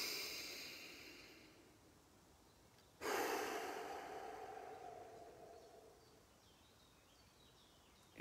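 A person takes a deep, slow breath in a forest, with a sharp inhale followed by a long, fading exhale, alone and fairly quiet.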